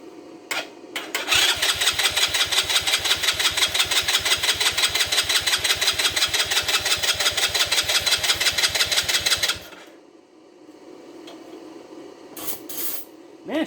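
A 125cc ATV engine cranks in a rapid, even rhythm for about eight seconds, then stops; a few brief engine bursts and sputters follow, fairly close and loud.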